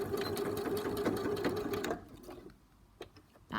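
A sewing machine stitches while a zip is attached, giving a fast, steady mechanical whir for about two seconds before it stops. A couple of faint clicks follow in the quiet, close by, with no talk.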